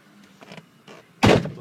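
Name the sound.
truck door closing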